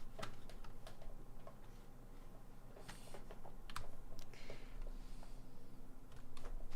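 Computer keyboard keys clatter in quick, irregular bursts of clicks while a game of Tony Hawk's Pro Skater 3+4 is played, close and steady with no talking.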